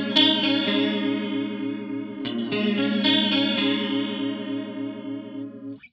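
Electric guitar run through a Boss CE-3 clone chorus pedal with depth, rate and all controls turned to maximum, giving loud, heavily warbling picked notes that ring out and fade at the end, with no talking.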